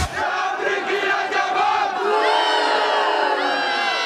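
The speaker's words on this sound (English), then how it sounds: "those boos don't hurt so much" A studio audience in a cartoon comedy scene reacts with a loud, sustained crowd outcry filling the whole stretch, a dense wall of voices that swells slightly midway and holds steady to the end.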